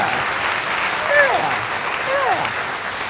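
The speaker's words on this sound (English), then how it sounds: "I think that deserves a round of applause" A church congregation at Holy Trinity Evangelical Lutheran gives a steady round of applause honoring a pastor's 20 years of service, the clapping continuous and moderately loud with a couple of faint whistle-like glides riding over it.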